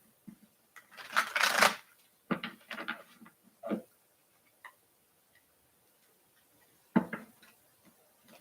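Tarot cards are shuffled in quick riffling bursts, with a long flurry early on, shorter taps and clicks after, and a final riffle near the end, close and fairly soft against quiet gaps.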